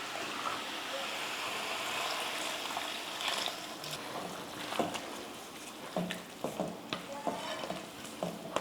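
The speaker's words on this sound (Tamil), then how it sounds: "மட்டன் போட்டு இது போல் கலந்து விட்டதுக்கப்புறமா இப்போ மட்டன் வேக வச்ச தண்ணி சேர்த்துடலாம்." Mutton chukka cooking in a pan, the meat stirred and fried with a steady sizzle and scraping stir strokes, close and fairly quiet, a few sharper clinks toward the end.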